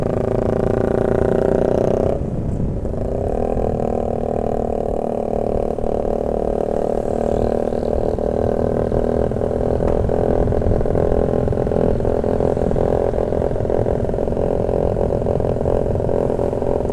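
A motorcycle fitted with a new banana-style swingarm at a group Sunday morning ride, its engine droning loud and close in a sustained rumble with rough, clattering texture, the sound shifting slightly after a brief opening burst.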